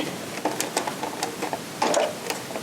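A Baby Lock Triumph serger stitching a rolled hem, a close mechanical chatter of rapid ticking stitches in short uneven bursts with a louder whir near the end.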